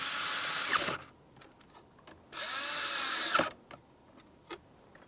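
A power tool snugs up the mounting bolts on a vent mode actuator in a 2000-2005 Buick LeSabre: two loud, close whirring bursts about a second each, separated by quieter ratcheting clicks and handling noises.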